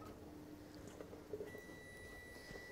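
A faint electronic kitchen timer beeping, thin steady tones sounding softly in the background of a quiet kitchen.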